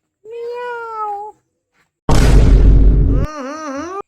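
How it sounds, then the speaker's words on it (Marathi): A cat meows twice, clear and close, separated by a sudden loud burst of broadband noise. "तर इथं म्याऊ बसेलाय"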